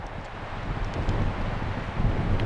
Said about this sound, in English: And you can see the wind on the tree.